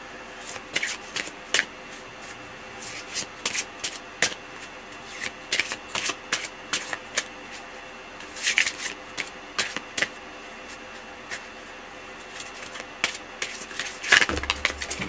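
Cards are shuffled by hand for a rune and card reading, a run of brisk riffles and flicks in irregular bursts with short pauses between, close and fairly quiet.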